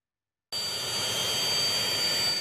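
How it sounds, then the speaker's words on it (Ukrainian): Jet engine roar from Russian military aircraft returning from a combat mission over Syria, a loud sustained rushing drone with a steady high whine that starts abruptly after a brief silence and holds without talk. "Російські літаки повертаються із бойового завдання."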